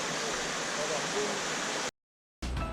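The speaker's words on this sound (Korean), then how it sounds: "신성계곡 캠핑장 바로 옆에는 이제 이렇게 시냇물이 흘러요." A stream flows right beside a campsite in the Sinseon Valley, its water giving a steady, close broadband rush that breaks off briefly and then returns.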